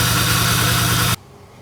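BMW 635csi inline-six idling rough while misfiring on three cylinders: a loud, close, lumpy throb with a pulsing low beat that cuts off abruptly after about a second, leaving quiet.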